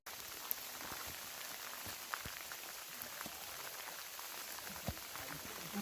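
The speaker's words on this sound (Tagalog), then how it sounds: "Dami ng ulan." Steady rain falls on a mountain trail on Mt. Apo in the Philippines, a dense, even hiss of drops with occasional sharper taps close by, soft overall and without talking.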